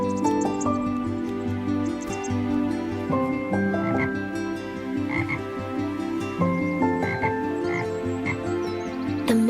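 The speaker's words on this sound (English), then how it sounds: "A bullfrog bellowed his morning croak." Deep, resonant bullfrog croaks repeat steadily and loudly, overlapping in a continuous chorus with no other sounds on top.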